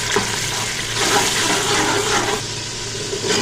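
Ginger garlic paste fries in a pan for a dhaba-style dal with bottle gourd, giving a steady, close hiss and sizzle with no talk.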